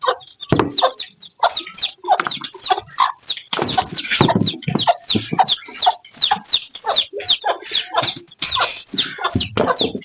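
A hen clucks steadily and agitatedly while searching for her chicks, a dense run of sharp, close, repeated clucks and squawks continuing without pause.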